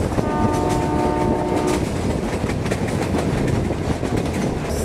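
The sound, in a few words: meter gauge train sounding its horn while passing an unguarded crossing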